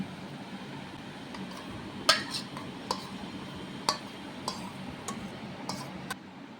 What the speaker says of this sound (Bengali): যে সয়া নাগেটসগুলো ভেজে রেখে দিয়েছিলাম তার মধ্যে আমি দইটা মিশিয়ে দিচ্ছি।